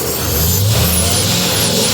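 A 1999 Chevrolet OBS Limited pickup truck engine runs at a steady idle close by, with a continuous low rumble and even hum and no voices over it.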